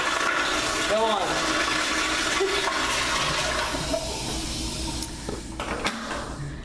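Toilet flushing up close: a loud rushing gurgle of water that swirls down and gradually tapers off over several seconds, ending with a few small knocks and drips.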